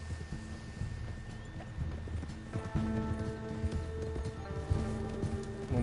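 Horse hooves clip-clop at a steady trot in the Western video game Red Dead Redemption, a rhythmic, fairly close patter under soft game music, with a brief whinny-like sound.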